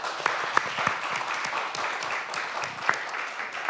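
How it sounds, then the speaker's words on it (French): Audience in Geneva applauding to welcome two guests: a steady, moderately distant wash of many hands clapping throughout, with a few sharper individual claps standing out, no talk over it. "Nous allons applaudir nos 2 amis pour leur dire qu'ils sont les bienvenus à Genève."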